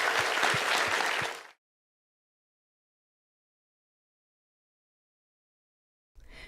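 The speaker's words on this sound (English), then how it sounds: "How about a round of applause for these two amazing icons?" Audience applause at a Stanford event for two guests, a short dense burst of clapping that stops abruptly, followed by long silence and a brief return of noise at the end.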